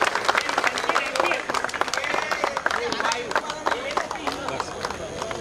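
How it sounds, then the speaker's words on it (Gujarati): An audience at a prize ceremony for a community cricket tournament claps in a sustained, crowded burst of close, sharp claps, with a voice talking over the applause. "તાળીઓનો અવાજ ઓછો નહીં થવો જોઈએ."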